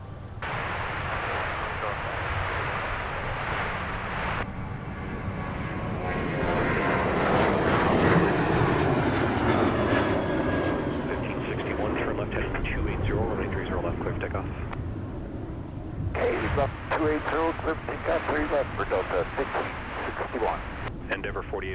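An airliner takes off at Minneapolis–St. Paul Airport, a broad jet roar that swells and then fades, with air traffic control radio chatter over it.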